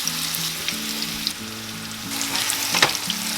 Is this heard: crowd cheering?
no